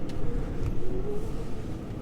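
Tractor engine running during a ride on a farm at hay time, a steady low rumble that holds at a constant, fairly loud level throughout, with no talk.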